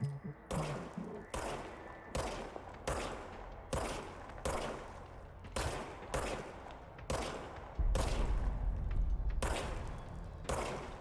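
Bursts of gunfire from the service weapon in the video game Control ring out in about a dozen loud, evenly spaced volleys, each sharp crack followed by a short decaying tail, with a deeper rumble underneath near the end.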